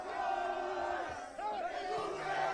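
Fortaleza football fans in a stadium at a Sul-Americana final against LDU, a massed crowd chant with sustained, wavering sung tones over a dense roar, steady and fairly distant.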